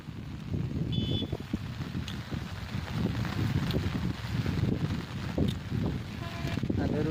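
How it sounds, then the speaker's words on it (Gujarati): Strong wind gusts outdoors, buffeting the microphone in rising and falling low rumbling surges with faint rustling above, steady throughout the moment. "પવન વધારે આવે ને"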